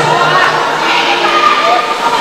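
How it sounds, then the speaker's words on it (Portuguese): A crowd roars and shouts at the Copa Ouro football final at Arena Douglas, a loud, continuous cheering din heard close throughout. "A torcida vai à loucura aqui na Arena Negras."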